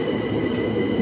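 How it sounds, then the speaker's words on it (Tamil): A train pulls into a London railway station platform, a steady loud rumble of wheels and carriages running close by with no break. "ஓகே, நம்ம ட்ரெயின் இப்போ வருது."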